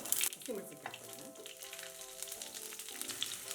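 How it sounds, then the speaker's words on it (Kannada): Mustard seeds and cumin splutter and crackle in hot oil in a pan while tempering for a ridge gourd stir-fry, with dense sizzling and scattered pops running steadily throughout. "ಸಾಸಿವೆ ಜೀರಿಗೆ ಎಲ್ಲ ಚಟಪಟ ಅಂತ ಇದೆ"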